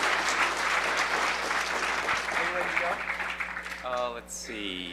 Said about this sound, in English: Give him a round of applause just for his hair.